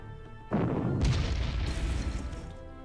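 Artillery fire and explosions from the Panzer Corps strategy war game: a sudden loud booming blast at half a second, then a second heavier impact around one second, followed by a dense rumbling wash of detonations that slowly fades, with no talk.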